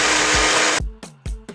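An electric grinder whirs loudly at full speed while grinding oatmeal into flour for a Nigerian-spiced chicken and waffles recipe, then stops and restarts in two short, sharp pulses.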